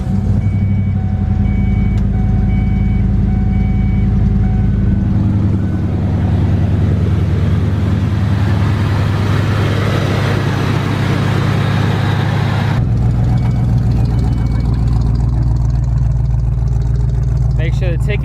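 A Foxbody Mustang engine cold-starts after a tune-up with new spark plugs, settling into a deep, loud idle rumble with a brief rise in revs, steady and close for the whole stretch.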